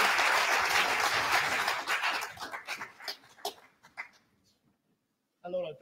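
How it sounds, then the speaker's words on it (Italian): A concert audience at an evening recital of Paganini-inspired violin music applauds warmly. The dense clapping thins into a few scattered, isolated claps and fades to near silence, then a voice starts speaking at the end. "Un applauso."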